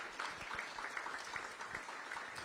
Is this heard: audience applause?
yes